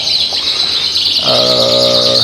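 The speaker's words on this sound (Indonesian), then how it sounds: "Kenari Yorkshire itu bisa dilombakan suaranya dan juga bisa dilombakan secara posturnya." Yorkshire canary song, loud and close: a high continuous trilling warble, joined after about a second by a lower rich rolling tone of stacked harmonics that holds steady to the end.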